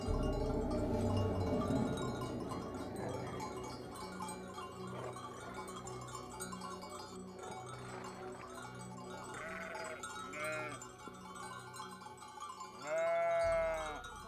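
Sheep belonging to nomadic herders at a summer highland pasture bleat in several short, wavering calls toward the end, near and moderately loud over a murmuring outdoor background.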